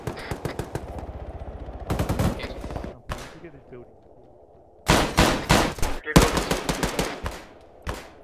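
A .50 cal machine gun firing in Arma 3: loud, rapid bursts of heavy automatic fire, one long burst and then several more after a short lull, with faint talk mixed in.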